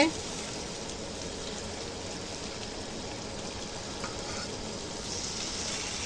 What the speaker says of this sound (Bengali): আঁচটা মিডিয়াম করে মটনটা ভাজিয়ে নেব